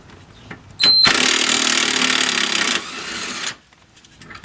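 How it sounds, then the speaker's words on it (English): An impact drill whirs loudly for about two seconds, then runs at a lower pitch before cutting off, with brief clicks before and after, while removing a rear transmission mount. "I'm using an impact drill."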